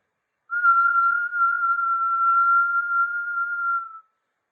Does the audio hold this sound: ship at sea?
no